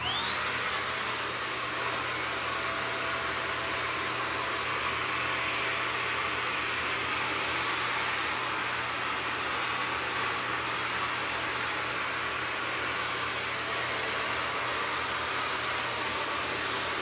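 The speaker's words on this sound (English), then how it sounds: "So I make sure I move the dryer around when I'm using it." A hair dryer blows continuously for the whole stretch, a steady loud close whoosh with a thin high whine, as it dries hair during a wash-and-go styling routine.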